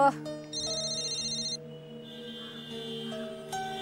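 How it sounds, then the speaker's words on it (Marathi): A phone's electronic ringtone plays a bright, repeating melody, fairly faint and unaccompanied. "आशू, फोन उचल उचल"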